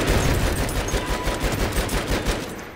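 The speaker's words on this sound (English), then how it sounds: "I'm just shooting in the blind" Rapid automatic gunfire from Battlefield 1 rattles on without a break, dense close bursts that stay loud throughout, with no voices.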